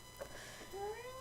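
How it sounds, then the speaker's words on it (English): A pet cat yowls insistently in the background, a couple of rising, drawn-out meows heard faintly behind indoor room noise. "You can hear my cat just yelling in the background"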